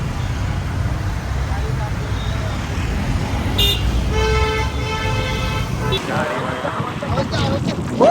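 Continuous rumble of road traffic during a crowded palanquin procession, with a long, steady horn blast in the middle and more honks near the end, under occasional talking.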